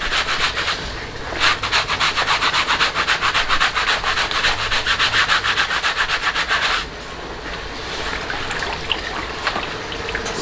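Brisk rhythmic scrubbing of a wet, soapy backpack during washing, a fast, loud back-and-forth rubbing that runs for several seconds, then gives way to quieter trickling water and softer handling sounds.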